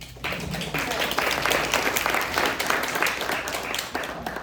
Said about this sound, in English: big round of applause for Peggy.